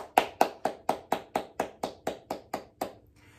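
Hands clap eleven times at an even, moderate pace, crisp and fairly close during a preschool circle-time activity, then stop.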